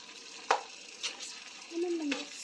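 Chicken with turmeric stirred in a pan: a few faint clinks and scrapes of a utensil over a low sizzle, with a brief voice sound near the end.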